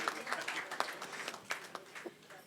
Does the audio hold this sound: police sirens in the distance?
no